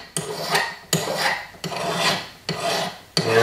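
A metal hand file rasps along the edge of a jewelry cuff bracelet, five long rhythmic strokes each starting with a sharp bite and trailing off, close and clear with no talking.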